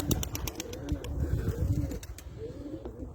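Pigeons coo repeatedly in a wooden coop, a soft rolling murmur running steadily throughout with a few faint chirps and light rustles nearby.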